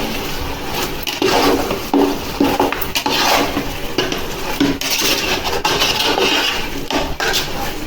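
A spoon scrapes and clatters around a metal pot as chopped tomatoes are stirred into mutton dum biryani masala, Nellore style, with repeated knocks against the rim over a steady cooking background.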